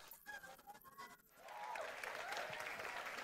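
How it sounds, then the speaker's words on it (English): An audience at a church or sermon gathering breaks into applause partway through, building quickly into a fairly full round of clapping after a few quieter opening moments. "Clap,"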